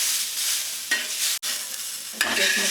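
Onion roasts in oil in a pan, giving a constant close sizzle broken by a couple of scraping stirs and one short clunk, with no talking.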